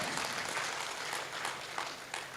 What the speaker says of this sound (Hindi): एक बार शानदार तालियां।